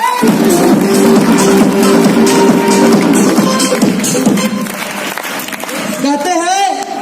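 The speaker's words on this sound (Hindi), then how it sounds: "एक बार अंकल के लिए तालियां हो जाए" An audience at a motivational speech applauds for an uncle, a steady wash of clapping with loud talk over it throughout and a brief tonal sound near the end.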